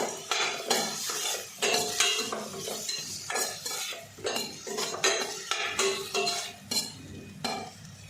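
A metal spoon stirs and sautés tomato with spices in a hot pot, giving a steady rhythm of scraping, clinking strokes over a low sizzle, close and fairly loud.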